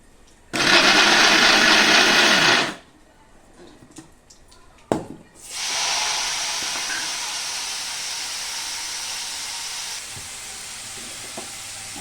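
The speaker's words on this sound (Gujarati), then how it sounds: "હવે હું આવી રીતે ક્રશ કરીને મિક્સરમાં ક્રશ કરી દઈશ" Mixer grinder crushing fried wheat-flour muthiya for churma, two loud whirring bursts, the first about two seconds and the second longer, separated by a pause with clattering handling sounds.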